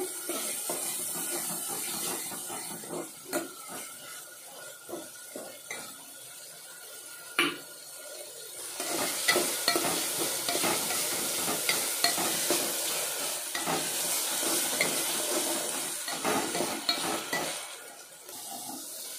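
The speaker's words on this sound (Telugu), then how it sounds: "అల్లం తెల్లగడ్డ పేస్ట్ వేస్తున్నానండి." Ginger garlic paste frying in hot oil for a chicken chukka dish, with a spoon stirring and scraping the pan in steady bursts. The sizzle stays close and grows louder about halfway through, with occasional clinks of utensil on metal.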